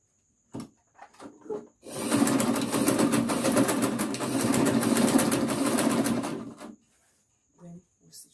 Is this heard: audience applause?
no